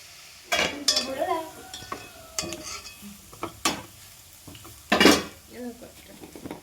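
A spoon stirs turmeric, chili and pepper powder into an onion curry in a pan, giving scraping clinks against the metal over a soft sizzle, with irregular close knocks and no talk.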